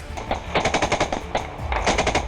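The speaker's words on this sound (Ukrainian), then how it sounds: "Коли ти працюєш по ворогу, ворог дуже не любить кулемет." Rapid bursts of machine gun fire from a crew's gun in combat, loud and close, rattling in several quick strings with brief gaps between them.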